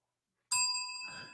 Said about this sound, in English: I'm going to give them a bell for that.